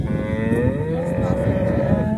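A Jersey cow lets out a long, low moo close by in a village, over a rumble of strong wind or background noise under cloudy evening skies.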